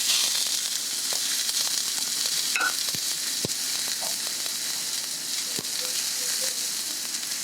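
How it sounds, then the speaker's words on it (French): Beef burger steaks sear in a hot greased pan, a steady broadband sizzle holding evenly throughout with a few faint clicks of utensils, close and moderately loud. "on fait saisir les steaks 1 minute par face"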